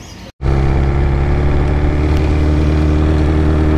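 A 2021 BMW S1000RR converted into a drag bike runs loudly and close, its engine holding a steady, deep, throbbing drone after a brief dropout at the start.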